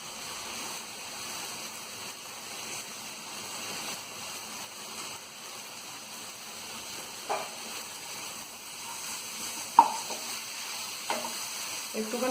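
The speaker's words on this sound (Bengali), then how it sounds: "এবার দিয়ে দেবো আমি শুকনো লঙ্কার গুঁড়ো আর কাশ্মীরি লঙ্কার গুঁড়ো," Dry chili powder and Kashmiri chili powder with ground spices frying in a pan for a rohu and pointed gourd fish curry, a soft steady sizzle with a few faint stirring clicks, quiet and continuous.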